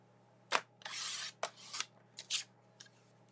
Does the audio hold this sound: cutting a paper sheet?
yes